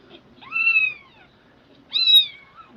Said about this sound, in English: you can't beat those kittens squealing